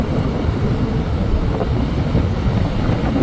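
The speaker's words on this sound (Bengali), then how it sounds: "এত বাতাস!" Strong wind buffets the microphone at Dhaka airport, producing a continuous low, roaring rumble throughout.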